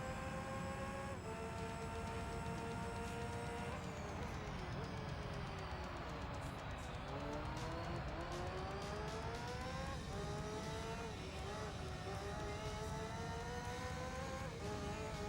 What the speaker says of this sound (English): Yeah, the F1 engines were quite good.